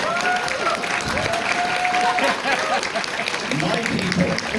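Convention crowd at TennoCon applauding a panel speaker, dense sustained clapping filling the hall while voices carry over it.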